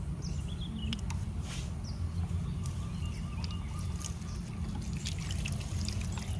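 Tap water runs steadily with a soft trickling pour as hands are washed, a constant low wash of sound with a few faint bird calls in the background.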